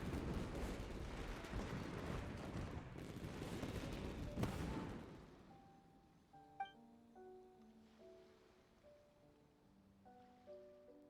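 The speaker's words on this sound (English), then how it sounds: "Fishy fireworks!" Fireworks bursting in the video game Genshin Impact: a dense crackling, booming barrage for about five seconds, then sparse popping bursts fading over a soft chiming melody.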